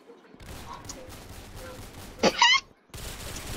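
Gunfire in the video game Arsenal: a loud, short burst of shots stands out over a steady game background, preceded by quieter in-game sound.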